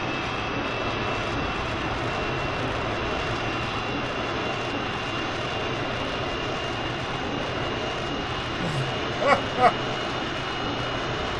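Simulated WWII-style aircraft engines in Kerbal Space Program roar in a steady, continuous drone throughout, with a couple of brief clicks near the end.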